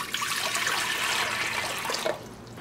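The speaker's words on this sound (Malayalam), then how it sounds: "ഇതിലേക്ക് ആവശ്യത്തിന് വെള്ളം ഒഴിക്കുക." Water poured into a pressure cooker to boil potatoes, a steady rushing splash for about two seconds that then tapers off, close by with no talking.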